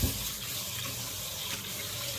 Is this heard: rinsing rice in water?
yes